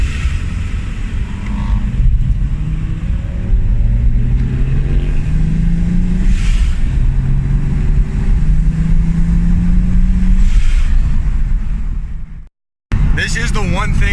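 A car engine hums steadily while driving along back roads around Milton, with gear-change pitch sweeps rising through the drone, close and loud, and speech over it before a brief dropout near the end.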